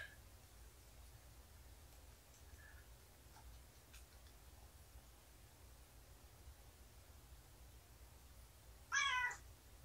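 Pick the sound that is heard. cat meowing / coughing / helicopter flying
cat meowing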